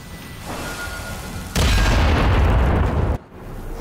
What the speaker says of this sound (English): Can Sitteki's magic stand up against some good old-fashioned cannon fire?